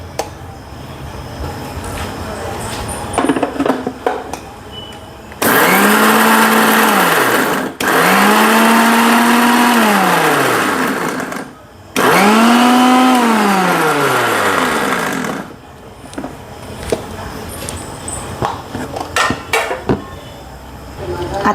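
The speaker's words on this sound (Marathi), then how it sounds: "हे सर्व आपण मिक्सरला फिरवून घेऊ." Kitchen mixer grinder blending garlic, cumin, ginger, green chillies and a little salt, three loud whirring bursts with rising and falling motor pitch separated by brief stops, with quieter handling sounds before and after.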